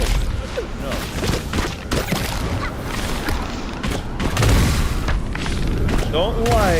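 Thrown potions exploding in the video game Brew, a series of loud booms and bursts spread across the moment, mixed with combat effects and someone talking over them.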